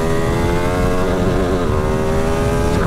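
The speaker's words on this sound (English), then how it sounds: "It's quite easy to hit the rev limiter on this because it pulls hard towards the top and the power really climbs, and then you just hit the rev limiter." A Ducati Streetfighter V2 motorcycle engine revs hard and holds near its rev limiter, a loud, steady, continuous roar with wavering harmonics and no talk.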